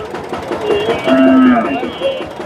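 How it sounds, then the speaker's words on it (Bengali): A Jersey cow at the Dhaper Hat cattle market in Bogura gives a loud, close, drawn-out moo over a murmur of market background noise. "জার্সি গাভী এগুলা মোটামুটি সুন্দর আছে"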